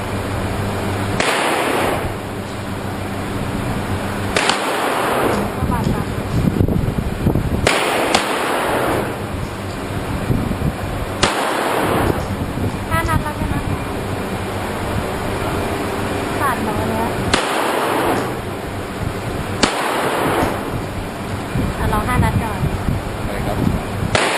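Handgun gunshots at a shooting range during target practice ring out as loud, sharp reports roughly every two to three seconds, about nine in all, with people talking between the shots.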